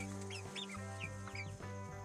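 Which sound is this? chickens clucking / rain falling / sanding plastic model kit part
chickens clucking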